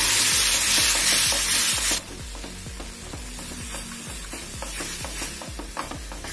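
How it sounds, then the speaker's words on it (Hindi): Flour cooking in butter while milk is gradually added, stirred continuously with a spatula for a vegetable lasagna sauce: a steady close sizzle with a regular rhythm of scraping strokes and no talking. "मैदा थोड़ा कुक हो जाएगा बटर में तो इसमें हम धीरे धीरे दूध ऐड करेंगे।"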